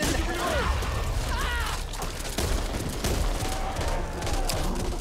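Back 4 Blood co-op gunfire against infected: repeated sharp shots cut through a busy mix of mechanical clatter, whooshes and effects, loud and close, with occasional voices underneath.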